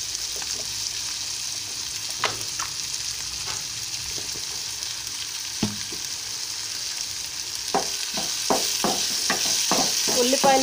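Onions with a pinch of turmeric fry in a pan, producing a continuous close sizzle broken by occasional stirring scrapes and taps that grow busier near the end.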